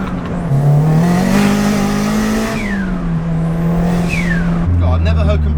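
Toyota Starlet EP82 GT turbo engine held at about 2,000 RPM, a loud steady drone with rising turbo spool and two sharp whistling sweeps, ending in a deeper lower note; a voice talks briefly over it.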